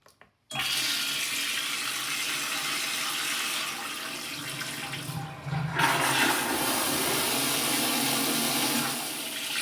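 A three-stage toilet flushes loudly up close in a home bathroom, starting with a sudden rushing gush of water that keeps flowing steadily and then swells again as the bowl washes and refills.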